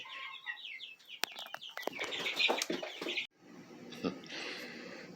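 A young chicken flock clucking and cheeping close by, with bursts of wing flapping and scuffling, busy and continuous with a short pause before resuming.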